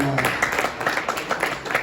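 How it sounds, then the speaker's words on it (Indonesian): Church congregation clapping during a Sunday service, a short burst of scattered hand claps spread across the room at moderate level, with a voice briefly audible at the start. "Kalian tepuk tangan nggak apa-apa."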